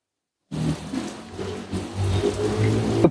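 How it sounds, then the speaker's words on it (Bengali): A garden fountain sprays water from above across a garden, raining down. Its steady, close, rain-like hiss starts abruptly and continues unbroken with no talk. "পুরো বাগানটা কিন্তু উপর দিয়ে যখন ঝর্ণাটা বইছে, দেখতে একটা অসাধারণ সুন্দর লাগছে। মনে হচ্ছে যেন বৃষ্টি হচ্ছে।"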